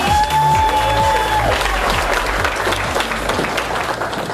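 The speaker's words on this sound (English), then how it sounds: "Let's give a big round of applause" An audience at a beauty school event bursts into loud applause and cheering, dense clapping filling the room over background music with a held tone, sustained and close.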